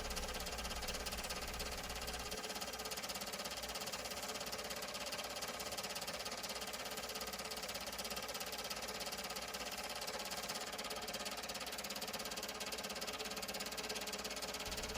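A steady, droning lathe whir runs throughout with a gritty, continuous hiss of wet sanding on a spinning pen blank. It sounds close and unchanging, and no one speaks.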